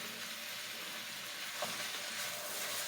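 Shaved steak sizzles in a pan with peppers and onions, a soft, steady frying hiss that holds at an even, faint level throughout.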